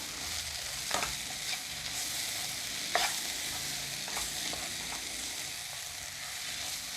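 Frying liver for a Kerala toddy-shop liver fry being stirred with garam masala and turmeric powder, giving a soft continuous sizzle with a few distinct spoon scrapes against the pan, close and moderately quiet, no voices.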